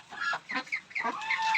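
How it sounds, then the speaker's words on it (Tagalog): Mother hens clucking up close, several short throaty bursts with quick pauses between, loud and clear with no talk over them. "Dalawang inahin."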